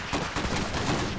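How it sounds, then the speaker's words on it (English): Grenade blasts in the real-time strategy game Iron Harvest go off as a few quick, sharp bursts of gunfire-like explosions in a dense, loud burst of battle noise. "Well, the grenade kind of missed because it kind of bounced them backwards."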